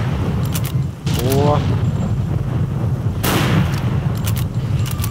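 Rifle shots in S.T.A.L.K.E.R.: Call of Pripyat with the Misery 2.1.1 mod, several sharp loud cracks spaced a second or two apart, with a voice talking and exclaiming between them.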